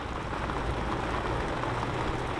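Steady rain falls outside, a dense, even patter of drops on surfaces that continues unbroken and fairly loud throughout the short stretch, with no voices.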